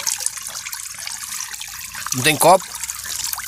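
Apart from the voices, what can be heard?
cold mountain spring water running, drunk by hand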